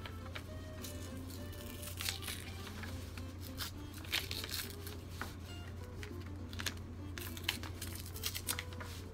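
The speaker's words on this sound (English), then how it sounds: "take your paper bag and take these handles off of it." Paper handles are torn and pulled off a paper bag. Crinkling and tearing rustles come in several close bursts over a low steady hum, with no talking.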